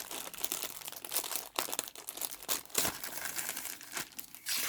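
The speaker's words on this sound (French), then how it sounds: "Je vais la déballer." A diamond painting kit package is unwrapped nearby, its plastic and paper crinkling and tearing in quick, uneven bursts with no talking.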